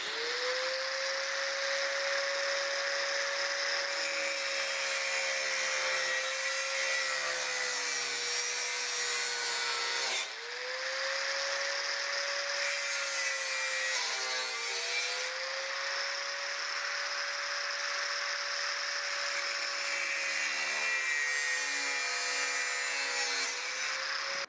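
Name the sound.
cutting away steel tube on airplane trim tab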